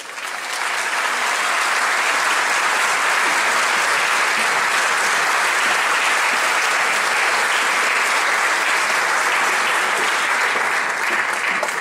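Audience at the Guelaguetza 2014 opening festivities in Oaxaca applauding award winners: loud, dense, sustained clapping from a large crowd that holds steady for the whole stretch without a break.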